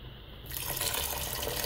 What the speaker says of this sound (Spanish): Y le vamos a añadir un poquito de agua.